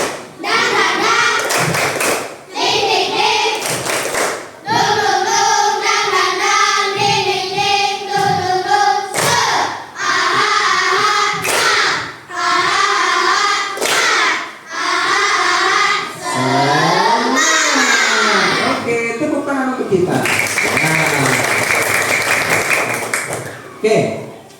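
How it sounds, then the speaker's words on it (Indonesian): A classroom of children performs a rhythmic clapping chant, bursts of sharp hand claps and thumps alternating with chanted group voices in a patterned, loud sequence. "Tepuk semangat."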